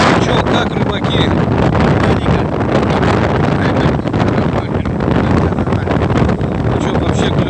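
A strong north wind blows at a fishing spot, loudly buffeting the microphone in a constant roar with gusts, and faint voices are heard beneath it.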